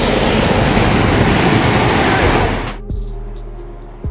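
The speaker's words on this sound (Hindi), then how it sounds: "ये ट्रेन कितनी फास्ट और कितनी स्पीड से चलती है।" A maglev train rushes past at high speed, a loud broadband roar that holds steady, then cuts off abruptly as it clears, leaving a quieter hum with a couple of faint clunks.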